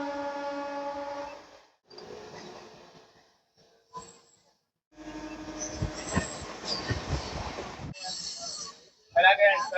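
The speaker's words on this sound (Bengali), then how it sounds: "আর ভালোই টানছে ট্রেনটা।" A Howrah to Digha local train runs with rumbling wheels and rattling carriages, broken by short gaps and a tonal hum, then heavier clatter and squeal near the end, with voices mixed in.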